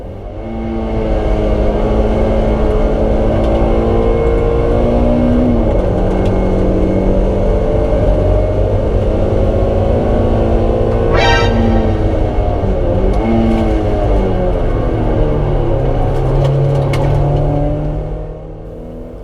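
Race cars in the BRSCC Clubsport Trophy at Silverstone, including a Class E Mazda 2, roar loud and close from on board, engine pitch rising and falling through gear changes and overtakes for the whole stretch.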